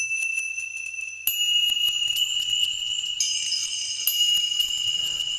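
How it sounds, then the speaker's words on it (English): Tibetan tingsha hand bells ring out in bright, sustained metallic tones, several clear strikes layering over one another with long shimmering decays, close and alone. "So I got a few tingsha samples."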